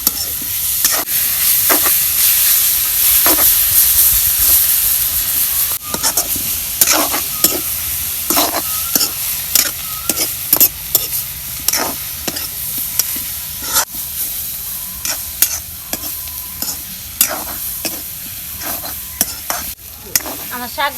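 Dhekia fern greens stir-fried in a pan: a steady sizzle broken by repeated sharp spatula scrapes and knocks at an irregular, brisk rhythm, close and loud, with no talking.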